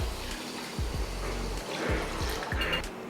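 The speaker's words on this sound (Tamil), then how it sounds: "இப்போ இதை தண்ணி ஊற்றி ஊற வச்சிடலாம்" Water poured onto rice and green gram to soak them, a continuous close splashing pour with gurgling and a few low knocks against the vessel.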